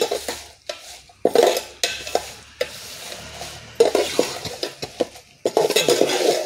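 Gongura leaves fry in a pan with a soft sizzle under repeated close scraping and clinking from a spoon stirring against the metal pan, no one speaking.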